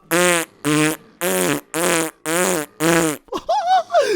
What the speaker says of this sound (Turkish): Herkes osuruyor burada.